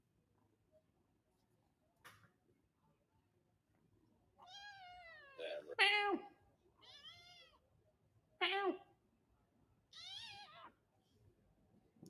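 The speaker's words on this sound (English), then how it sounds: "Little kitty." A small cat meows several times, with separate rising and falling calls heard close and clear in a quiet setting, plus a brief soft word from a person.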